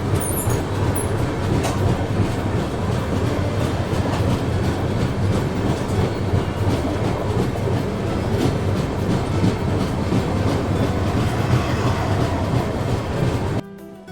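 The Mumbai Howrah AC Duronto Express rolls along the rails with a loud, steady rumble and rhythmic clickety-clack of wheels over track joints, heard from on board and cutting off abruptly near the end.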